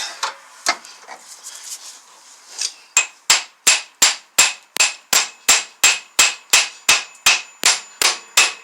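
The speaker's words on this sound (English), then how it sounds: "Take the hammer, just give it a couple whacks to get it seated." Hammer striking a wheel bearing to seat it on a 2007 Ford Explorer, about a dozen loud, evenly spaced metallic whacks in steady rhythm after a few lighter, scattered taps.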